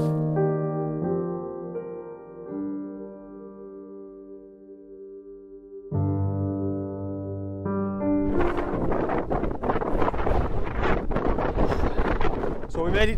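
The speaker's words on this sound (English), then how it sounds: "As predicted, it is extremely windy." Strong wind on an exposed mountain peak in the Lake District, first as a steady tonal hum, then as loud, broadband buffeting gusts hitting the microphone for the last several seconds.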